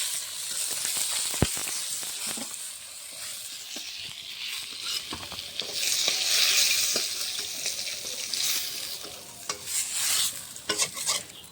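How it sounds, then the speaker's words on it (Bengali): Fish sizzling and spitting in hot oil in a pan, a steady frying crackle with occasional sharp pops and a spoon stirring against the metal, close and continuous for the whole stretch, no voices. "হালকা জলে লাল লাল করে মাছটা ভেজে দিয়েছি"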